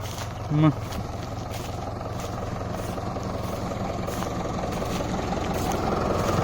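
A tractor engine labours to pull free of thick, sticky village mud on a misty morning, a steady low rumble running throughout with people talking over it and a brief louder knock near the start.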